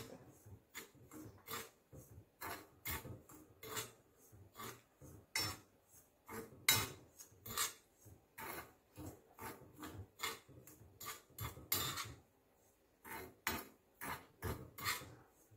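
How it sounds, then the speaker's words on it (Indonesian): A spoon scrapes and clinks around a bowl in a steady rhythm of short strokes, stirring a dry seasoning mix of salt and MSG for Chinese cooking; close and fairly quiet, with no talking. "Ini diaduk."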